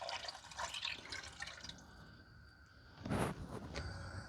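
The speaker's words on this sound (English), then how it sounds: "pour our chicken broth in" Chicken broth poured from a container into a cooking pot, a steady liquid splashing and trickling that swells into a louder gush near the end, with no talking.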